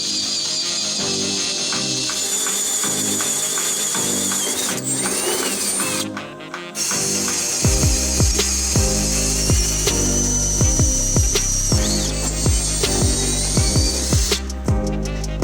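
A power drill grinds steadily and loudly through material for a long stretch while installing seats in an early Ford Bronco, its pitch wavering, with occasional scraping and knocking as it bites.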